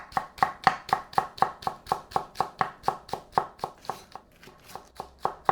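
A knife chops a single scallion on a cutting board in a home kitchen, about twenty quick, evenly spaced close taps with a brief pause near the end.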